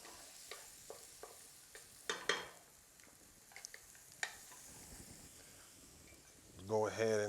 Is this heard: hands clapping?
no